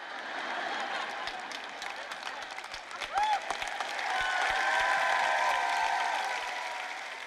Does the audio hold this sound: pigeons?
no